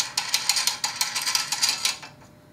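Ratcheting clicks from a thumb wheel being tightened on an Orion Monster parallelogram binocular mount tripod, a quick run of about a dozen close, crisp mechanical ticks that stop abruptly.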